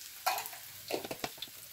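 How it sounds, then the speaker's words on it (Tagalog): Minced garlic and onion sautéing in a pan for a home-style chicken gizzard dish: a soft, low sizzle broken by a few light clinks and scrapes of a utensil, with no voices. "Maaari nang igisa ang minced garlic."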